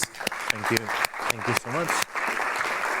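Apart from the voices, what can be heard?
audience applause for conference presenters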